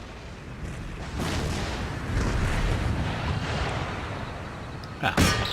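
Cannon artillery in a strategy battle game fires on a fortress, a rolling low rumble of distant booms that builds and ends with a sharper, louder blast near the end.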